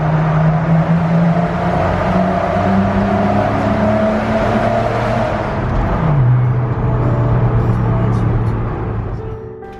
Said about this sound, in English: I need to get in the car and drive